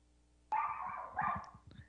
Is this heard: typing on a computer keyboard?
no